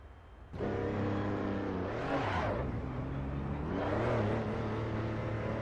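A race car in the Assetto Corsa Evo racing game pulls away with a steady, loud engine drone, revving up and shifting through gears with rising and falling pitch, no talking over it.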